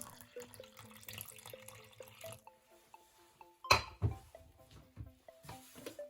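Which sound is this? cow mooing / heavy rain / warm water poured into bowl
warm water poured into bowl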